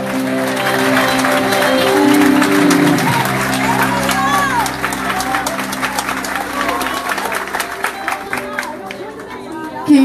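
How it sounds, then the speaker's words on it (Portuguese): A church congregation at a prayer gathering applauds together, a broad wash of clapping and crowd noise over sustained music, voices rising within it, fading toward the end. "Quem pode aplaudir o nome do Senhor?"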